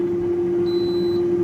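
A steady electronic air fryer beep tone holds for about half a second over a constant appliance hum, with no talking.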